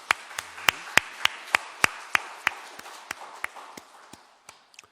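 A Baptist church congregation at Sunday worship, heard as a steady run of rhythmic sharp claps, about three per second, fading toward the end, with no talking.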